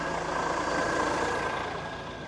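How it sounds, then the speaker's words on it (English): A vehicle's diesel engine at the InnoTrans 2024 trade fair runs with a steady, loud rumbling drone that holds even throughout and fades slightly toward the end, with no voices over it. "It's a diesel engine!"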